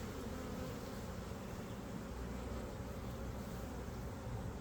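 Honey bees buzz continuously around an open nuc hive during an inspection, a dense, steady, close drone with no pauses and no talk.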